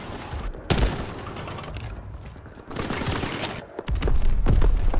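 Battlefield gunfire in the World War II shooter Call of Duty: WWII, with several loud, dense bursts of rapid shots and mechanical clatter coming in waves amid the noise of an ongoing fight.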